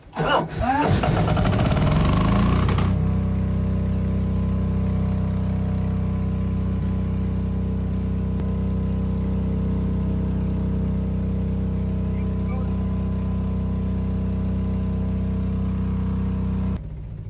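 A backup generator engine cranks and catches, then settles into a steady, loud, droning run that continues unbroken to the end, after a brief burst of mechanical clatter at the start.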